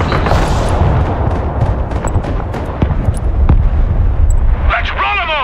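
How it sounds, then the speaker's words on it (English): Grad rocket artillery strikes in the video game Broken Arrow land as heavy, loud booming blasts that rumble over one another, with whooshing debris and a whistling sweep near the end. "There's two grads coming in here."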